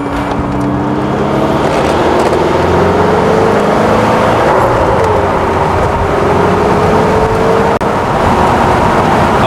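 A Lotus Esprit V8 engine drones loudly and continuously from inside the car, its pitch slowly rising and falling as it drives.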